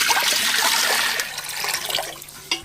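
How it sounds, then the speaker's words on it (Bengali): Water is poured into a pot for cooking biryani rice in a home kitchen, a steady, close rushing splash that eases slightly before a final spatter. "জল"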